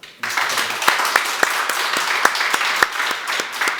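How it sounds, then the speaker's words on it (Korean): A temple congregation breaks into applause: dense, even clapping from many hands that rises suddenly and holds steady, with a few sharper single claps standing out. "큰 박수"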